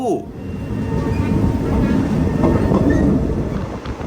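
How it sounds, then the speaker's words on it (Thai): A Thai train runs out from Sikhio station and climbs a grade toward Nakhon Ratchasima, giving a steady, loud rumble of wheels on rail with faint squeals, carried alone and unbroken throughout. "ขบวนรถไฟของเราก็กำลังไต่เนินขึ้นมาครับ"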